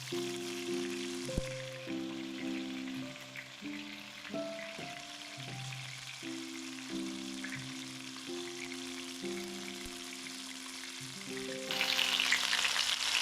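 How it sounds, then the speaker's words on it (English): Marinated pork chunks frying in hot oil in a heavy-bottomed pan, a soft steady sizzle beneath prominent background music, growing louder and brighter near the end as the frying intensifies. "Now that the oil is nice and hot, I'm going to add my beautifully marinated roast pork chunks."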